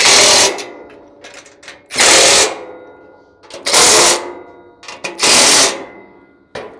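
A ratchet wrench tightens bolts on a welding skid in four loud, close bursts of fast clicking, separated by short pauses and quieter handling noise.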